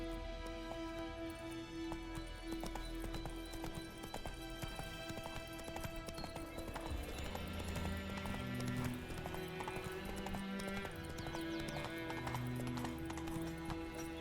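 Hooves of the horse Roach gallop in the Witcher 3 video game, a rapid rhythmic clip-clop running steadily under a dense music score and ambient game sound.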